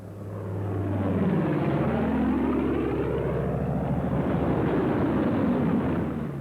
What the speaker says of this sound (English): Space the planes 20 seconds apart for landing